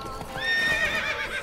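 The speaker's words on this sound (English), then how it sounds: "Oh, my horse is kind of scared." A frightened horse in The Witcher 3 whinnies loudly in a single drawn-out, high-pitched neigh with a shaky tremor, set against soft hoof clip-clop and no talking.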